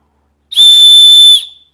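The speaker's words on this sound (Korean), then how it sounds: "호루라기 기능이 들어있습니다." An emergency whistle built into a compact rechargeable lantern gives one loud, piercing, steady blast of under a second, sharp at the start and cut off cleanly, alone in otherwise silent surroundings.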